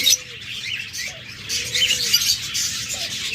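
Pet birds kept for sale, a blue-mark pair among cockatiels, budgerigars and lovebirds, chirp and tweet in a steady busy chorus, with a few brief higher calls over a low background hum.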